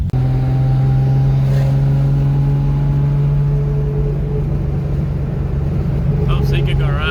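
A Toyota Supra with a JZ engine swap and no muffler fitted drives along with a loud, steady, raspy exhaust drone that holds nearly constant, with voices talking over it.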